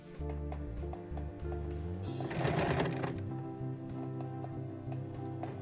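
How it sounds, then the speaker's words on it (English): A sewing machine runs steadily through two thick layers of leatherette, its mechanical whir continuous with a louder, rougher burst midway as the needle strains, then settling back to an even hum. "I'm going to try to sew the original ones, but it's gonna be a fiasco because it's 2 layers of this thick leatherish"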